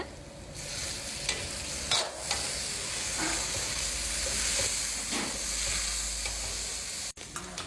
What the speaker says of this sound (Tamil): இப்போ நான் என்ன போட போகிறேன்னா இஞ்சி பூண்டு ஒரு பவுல் ஊற்ற போகிறேன்